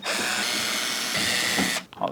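A power drill runs steadily, backing out the screws from the top of an MP220IDV multi-process welder's shell, loud and continuous for almost two seconds before cutting off, with a voice heard faintly alongside.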